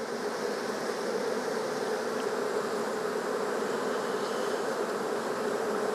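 Honey bees swarm around an open hive during an inspection, producing a dense, continuous buzzing drone that stays loud and even throughout, with no talking.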